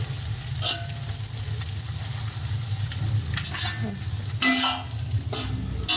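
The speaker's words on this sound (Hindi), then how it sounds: "इसको ज़्यादा नहीं भूनना, तकरीबन आधा मिनट ही हम भूनेंगे।" Garlic sizzles steadily in hot ghee while being stirred, a constant close frying crackle with occasional scraping strokes of the spoon in the pan, no talking.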